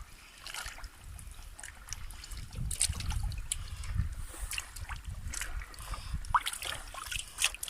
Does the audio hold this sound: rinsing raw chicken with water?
yes